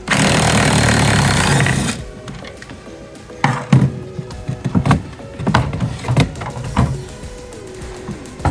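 A power tool backs 8mm bolts out on a Corvette E-Ray, opening with a loud continuous whir that stops abruptly, followed by scattered metallic clanks and knocks of parts being handled nearby.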